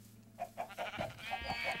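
Sheep in Minecraft bleat in a quick run of short, repeated calls nearby, loud and choppy against a faint steady background, with no talk.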